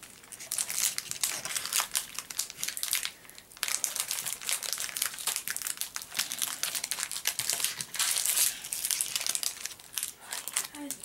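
Crinkling plastic wrapper of a trading card booster pack, close and loud, with continuous crackly crumpling bursts across the whole stretch and a short pause near the middle; someone speaks faintly in places.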